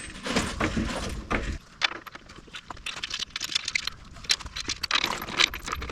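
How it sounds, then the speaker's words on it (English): Loose metal bolts handled during fitting of a homemade skid plate on a GMC Safari or Chevy Astro van: rapid, close metallic clinks and jingles that come in bursts with short pauses. "I'm going to put the middle bolts in to kind of hold it."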